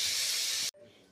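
Potatoes fry in hot oil in a home kitchen, a loud close sizzling hiss that cuts off abruptly, leaving a faint quiet remainder.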